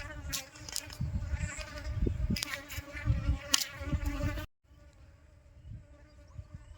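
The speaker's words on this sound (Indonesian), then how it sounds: "Sebagian lebah mulai berhamburan dikarenakan sudah ada asap di bagian dalam" Aggressive Apis cerana bees swarm out of a hive being relocated, with smoke inside and a monitor lizard in the hive. A dense, loud buzzing drone fills the air, then cuts off abruptly to a quieter hum.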